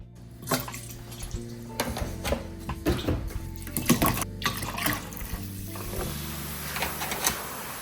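Water runs and splashes in a kitchen sink while vegetables are washed, an uneven stream with clattering, knocks and handling noises throughout, fairly close.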